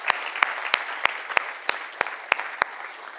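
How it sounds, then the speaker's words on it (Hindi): An audience at a mindset-coaching breakout session at a cleft conference in India claps in sparse, evenly spaced single claps, about nine sharp hits, close and distinct rather than a full roar. "So can we have a big round of applause for all of us?"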